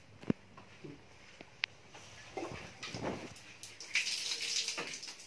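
Water runs from a tap as someone washes up in a home bathroom, a soft splashing flow that builds in the second half after a few scattered knocks and clicks.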